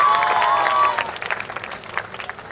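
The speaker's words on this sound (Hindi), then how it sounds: "जोरदार तालियां एवरीबॉडी" Applause from a crowd at a Diwali festival celebration, a dense patter of clapping with a brief whistle early on, then thinning out toward the end.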